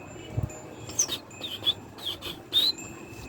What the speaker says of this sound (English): You can hear the quail.